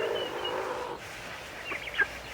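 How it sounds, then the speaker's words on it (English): Free-ranging ducks, turkeys, chickens and geese on a small dry property make faint calls: a drawn-out tone at first, then scattered short clucks and a single sharper call near the end. "Beautiful birds."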